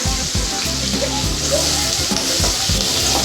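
Chopped onions and curry leaves sauté in a hot pan for a potato fry, giving a steady, loud, close sizzle with a few stirring clinks and scrapes underneath.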